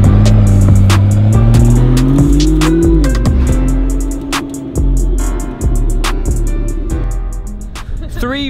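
A McLaren P1 engine in Fortnite revs loudly and close, its pitch rising over the first three seconds before settling into a steady drone. Talk runs over it, with sharp clicks and pops scattered throughout.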